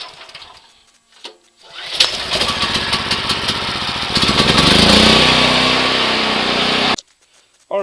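An ATV engine is hand-pulled over to its compression stroke, a loud mechanical churning and rumble that swells through the middle and stops abruptly near the end, with short quiet gaps before and after.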